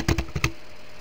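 Quick typing on a computer keyboard: four close, crisp key clacks in a short burst, then quiet.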